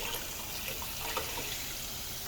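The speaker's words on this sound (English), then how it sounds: "we're just filling up this whole thing with water." Water runs steadily from a tap into an oven-cleaning pan, a constant broadband rush with light splashing, close and moderately loud throughout with no talk.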